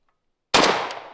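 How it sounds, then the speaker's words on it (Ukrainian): A single sharp 7.62-calibre rifle gunshot in a video game cracks out of silence and rings off in a fading tail. "Постріл."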